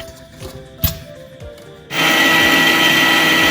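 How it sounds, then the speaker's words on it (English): A blender grinding five slices of bread into crumbs starts abruptly after a few faint handling clicks, then roars loud and steady with a whining motor and churning whir. "for this I've taken 5 slices of bread and I'm going to be grinding them"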